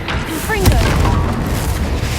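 Booming Confringo fire-spell explosion in the Hogwarts Legacy video game, a loud burst and rumble that swells then sustains, with a shouted spell voice over it.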